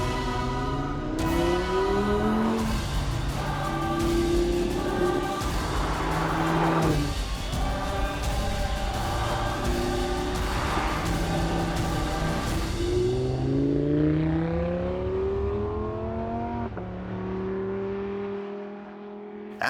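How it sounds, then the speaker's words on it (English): Lamborghini Huracán Spyder with its loud rear-mounted engine revving hard while driving, the note rising and falling through repeated gear changes, close and continuous before easing off near the end. "After a wild ride with the loud booming engine in the back"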